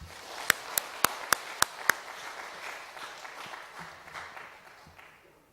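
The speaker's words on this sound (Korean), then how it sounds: "우리 박수로 환영하겠습니다." Applause from a church congregation welcoming a psychiatrist guest lecturer at a Sunday afternoon seminar, opening with six sharp, evenly spaced claps, then settling into a steady mid-level patter of many hands that slowly fades.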